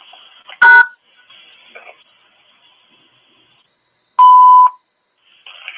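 Telephone keypad tones sound while a call is placed back: one short beep, then after a pause a longer steady tone, with faint murmuring voice between them.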